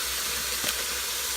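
One pound of lean ground meat with a splash of olive oil sizzles faintly in an Instant Pot, a steady soft hiss with a slight swell partway through and no talking.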